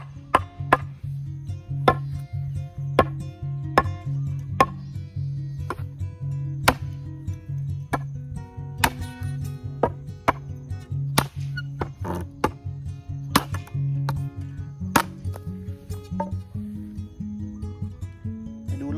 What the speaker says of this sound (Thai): เดี๋ยวเราจะลองทดสอบนะครับฟันไม้ไผ่แห้งตายแล้วนะครับ